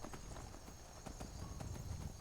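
Horse hooves clip-clop at a steady trot in Skyrim, the regular evenly spaced hoof strikes sounding alone over a quiet hum.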